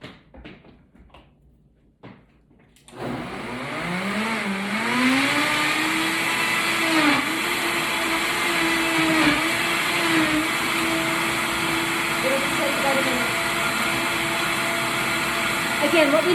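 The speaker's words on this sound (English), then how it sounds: "And then we are going to blend this." A blender starts up after a few quiet seconds of small knocks and handling, then runs loud and steady as it blends a detox smoothie, its motor pitch wavering slightly as the contents churn.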